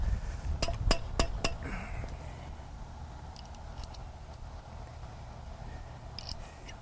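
Metal pilot bolts for a premium well cap kit clink together in four quick, bright, close taps, followed by quiet handling noise.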